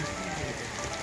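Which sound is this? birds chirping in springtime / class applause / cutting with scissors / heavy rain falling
heavy rain falling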